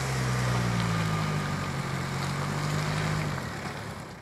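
A Jeep Wrangler's engine holds a steady, droning note as it accelerates before an off-road climb. Wind-like rushing noise runs underneath, and the tone drops away near the end.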